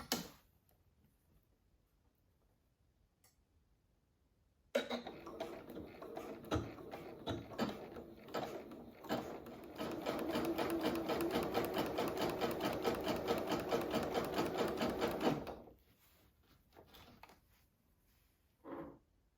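A sewing machine runs in bursts, then settles into a steady, fast rhythmic stitching for several seconds before stopping; close and fairly loud.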